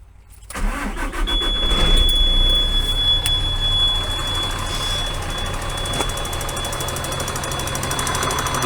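A truck engine starts with a loud crank and catches, then settles into a steady, close, clattering idle for several seconds, with no one talking.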